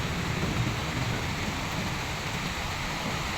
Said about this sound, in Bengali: দেখুন কীভাবে বৃষ্টি হচ্ছে